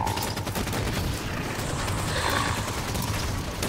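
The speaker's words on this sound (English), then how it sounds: "We'll chuck in a couple of grenades in it." Grenades and gunfire in the Halo 5 video game, heard as a dense, continuous battle din of rapid shots and blasts that stays loud throughout, with no talk over it.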